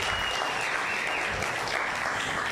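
A church audience cheers and applauds as two men are invited up front, a dense, steady wash of clapping and shouts that holds at full strength throughout.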